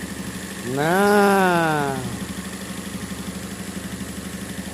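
A 550 cc minicab engine idles with a steady, regular low throb throughout, while a voice speaks briefly over it near the start.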